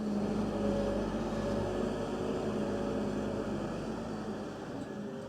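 A Claas Xerion tractor engine runs in a steady, fairly faint drone with a low rumble and humming tones, holding an even pitch throughout without any talk.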